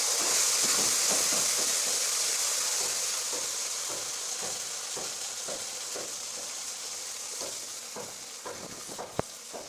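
Spices fry and sizzle steadily in a hot pan, with a constant hiss broken by repeated short scraping strokes as they are stirred, close and fairly loud, without any voices.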